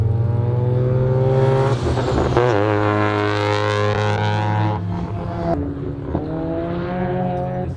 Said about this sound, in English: This is so badass that there are all Rotary cars out drifting today